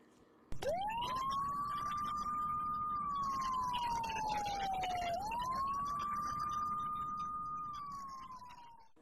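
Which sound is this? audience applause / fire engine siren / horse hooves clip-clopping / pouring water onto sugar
fire engine siren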